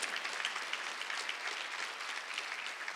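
A church congregation at a Sunday worship service claps together, a dense steady wash of many hands sustained evenly for a few seconds without a voice on top.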